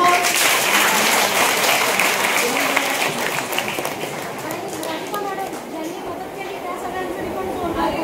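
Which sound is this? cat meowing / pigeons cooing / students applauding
students applauding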